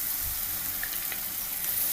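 A puree of tomatoes and cashews hits hot oil in a pan for egg drop curry, giving a close, even, hissing sizzle that holds for the whole two seconds.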